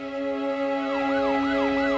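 An ambulance siren rising and falling in a quick repeating wail, heard over a steady engine hum.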